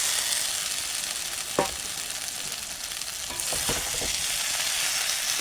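Potatoes and cauliflower drop into hot spiced oil for a fish and cauliflower curry, producing a steady loud frying hiss with a few brief stirring scrapes and clatters.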